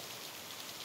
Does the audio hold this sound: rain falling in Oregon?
yes